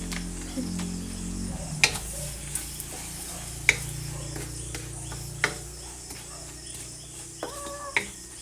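Bok choy stir-frying in a pan with soy sauce and egg, a steady soft sizzle underneath with occasional sharp clicks and taps of a utensil against the pan, fairly quiet and with no talking.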